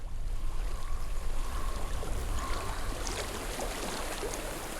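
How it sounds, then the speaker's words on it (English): Flowing stream water in the video game Hellblade: Senua's Sacrifice, a continuous close rushing and trickling wash that holds steady throughout without speech. "I hear water."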